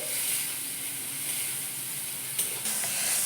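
Prawns frying in a pan, a steady close sizzle with soft hiss and a brief clatter of stirring near the end.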